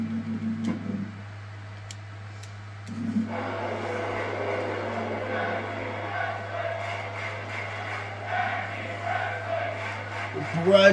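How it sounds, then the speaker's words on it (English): A wrestling arena crowd in Orlando chants during a tag team match, a broad rumbling roar of many voices that swells midway and stays steady, heard under a steady hum and some nearby talking. "The crowd here in Orlando are chanting tag team wrestling"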